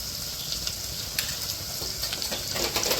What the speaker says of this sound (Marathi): आणि हे एकदा आपण चांगलं फिरून घेऊया